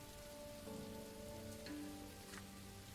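Steady rain falls in a video game scene, a soft continuous patter on surfaces with low droning tones underneath, quiet and unbroken throughout.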